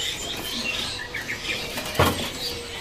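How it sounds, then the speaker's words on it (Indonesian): A Nias myna calls amid a busy bird market, with scattered chirps and tweets from many caged birds, a brief sharp burst near the end standing out over steady crowd and market noise. "ini jalak nias jalak oh jalak nias"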